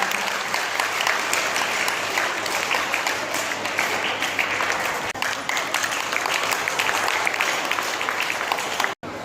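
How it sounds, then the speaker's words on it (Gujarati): Students applaud at a school quiz competition hosted by a high school in Juna Deesa, a dense, continuous round of clapping that fills the room, steady throughout before cutting off abruptly at the end. "વિદ્યાર્થી મિત્રો, તાળીનો ગડગડાટ."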